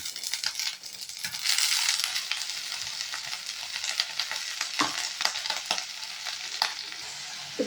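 Onions and curry leaves fry and crackle steadily in a pan while being stirred, for a kovakkai poriyal. A dense close-up sizzle with scraping stir noises and no talking.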